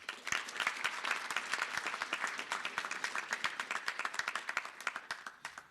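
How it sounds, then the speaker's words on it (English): Sustained audience applause at a Competition Commission Health Market Inquiry event, many hands clapping steadily at moderate distance for several seconds with no talk over it, tapering slightly at the end. "I'd like you to give a round of applause to Mapato, Ramohopa, and the technical team"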